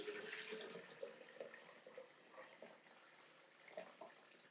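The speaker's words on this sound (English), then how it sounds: "So now this has cooled down, we can strain it off. Just run it through a finer filter just to catch any other little bits." Banana peel liquid fertilizer strained through a fine filter: a faint, continuous splashing trickle of liquid pouring, close by, with small irregular splashes.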